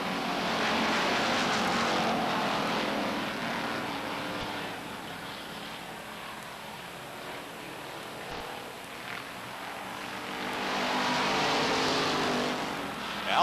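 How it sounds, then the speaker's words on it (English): Race cars circling Beech Ridge Motor Speedway during a 1991 weekly racing event, their engines a continuous broadband roar that swells, dips slightly midway, then surges again as the pack passes, with no talk over it. "Al Burset in the 23 trying to find a way around the '09 of Frank Collins"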